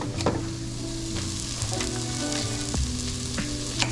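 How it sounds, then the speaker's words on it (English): Butter sizzles in a pan with onions and peppers, a loud steady crackling fry close up, broken by occasional scrapes and taps of a spatula stirring. "Throw a little more butter in there."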